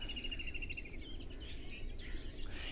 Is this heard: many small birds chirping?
yes